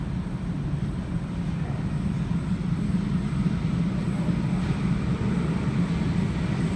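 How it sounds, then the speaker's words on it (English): Sydney train approaching the platform at Domestic Airport station, a steady loud low rumble and roar that holds throughout the clip, with no talk. "We have a train approaching platform number 2."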